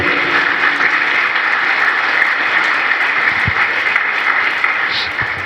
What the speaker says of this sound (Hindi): तालियां नहीं बजाएंगे क्या?